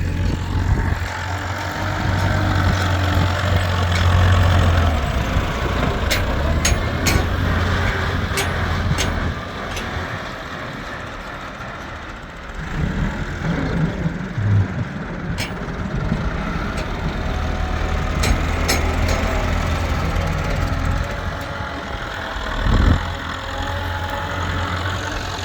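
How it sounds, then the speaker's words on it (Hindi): A tractor engine idles steadily while a trolley is loaded with soil, a continuous mid-pitched rumble up close with occasional clanks and scraping of the loading over it, no clear talk. "दूसरा ट्रैक्टर भी खैर से आ गया है ट्राली के साथ।"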